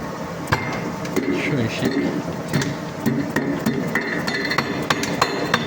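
A hammer strikes metal during maintenance work on an Atlas Copco blower's non-return valve, giving repeated close clanks and knocks over a loud, steady machinery hum, with someone speaking briefly.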